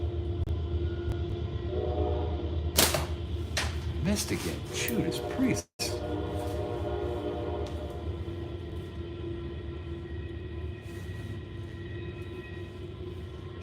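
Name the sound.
train passing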